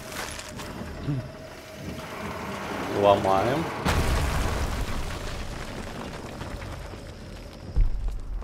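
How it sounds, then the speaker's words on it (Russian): Heavy booming cannon blasts in Tomb Raider (2013) hit around the middle and again near the end, over a busy backdrop of game noise and scattered voices. "Опять какие-то пушки."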